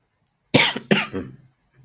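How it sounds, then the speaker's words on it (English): Two sharp coughs in quick succession, close and fairly loud, followed by a brief raspy trailing breath, with silence before and after. "Coughs are killing me."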